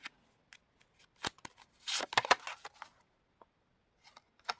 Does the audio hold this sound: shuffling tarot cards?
yes